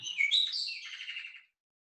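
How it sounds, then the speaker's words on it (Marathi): A single bird chirps a quick, bright warbling phrase, clear and close, then falls silent. "कोकिळेचा आवाज असेल, पक्ष्यांचा आवाज असेल"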